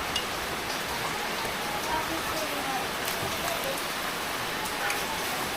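Heavy rain pours down steadily, a dense, continuous hiss of drops on surfaces at a constant loud level, with faint voices and household sounds faintly underneath.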